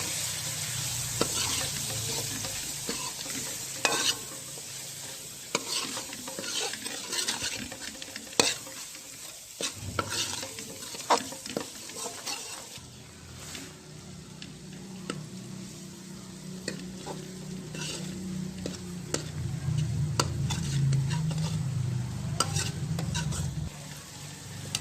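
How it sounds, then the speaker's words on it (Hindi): Green peas fry with chilli and turmeric in a pan as a utensil stirs them, with repeated scraping clicks and knocks over a continuous sizzle that grows fuller in the second half. "अब हम इसको अच्छी तरह मिक्स कर लेंगे।"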